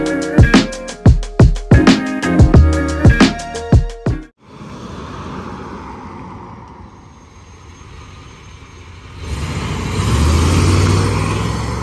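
A lowered 1994 Chevrolet C1500 pickup with a 5.7 V8 and automatic transmission runs steadily on the road, its engine and tire rumble continuous and moderately loud, rising toward the end after a stretch of sharp rhythmic knocking at the start.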